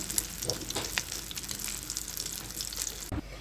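Egg chops deep frying in hot oil while being turned, a steady close sizzle with bubbling crackle throughout, a brief clatter near the end, no talking.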